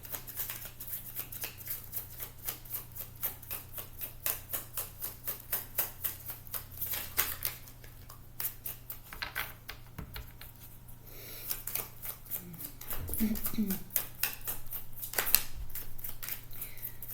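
Tarot cards being shuffled by hand: a long run of quick riffling clicks and soft slaps, close and fairly quiet, with brief pauses and a low steady hum underneath; no voices.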